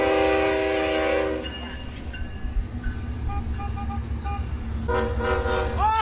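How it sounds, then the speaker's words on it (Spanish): A passing train sounds a loud, sustained horn blast in the opening second, then its rumble and clatter roll by with fainter horn tones later, ending in a brighter squeal, all near and without voices. "pasa el tren."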